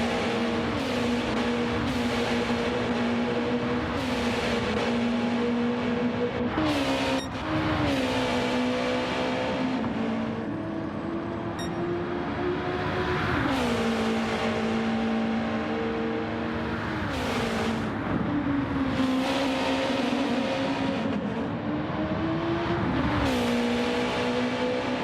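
Race cars from a sim racing league roar continuously at close range around St Croix, engines revving up and down through gear changes as several cars battle wheel to wheel, with a brief tire squeal.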